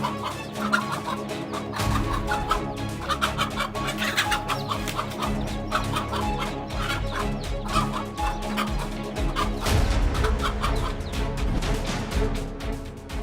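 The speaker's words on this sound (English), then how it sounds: "Let's see how a mother hen protected her chicks against this voracious predator." A mother hen clucks rapidly and repeatedly as she guards her chicks from an approaching coyote near a house, close and insistent throughout, with sharp bursts of alarm calls over a busy background of other birds and rustling.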